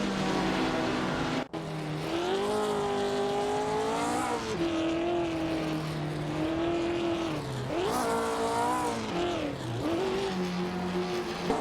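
1950s sports cars race in an AI-driven racing game, with engines revving and shifting pitch continuously, rising and falling as cars accelerate, plus occasional tire squeal.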